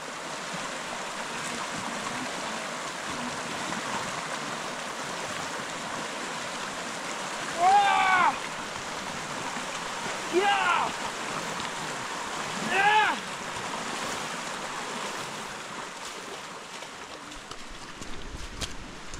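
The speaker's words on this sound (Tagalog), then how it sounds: "Medyo maikli lang ito tatawirin na ilog, pero mukhang malakas yung ragasa" A constant rushing of a strong, fast-flowing river current fills the background, with a few brief chirpy calls rising over it midway.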